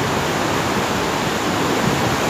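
A strong stream rushes past in a loud, steady roar of water that stays constant and close, with no voices.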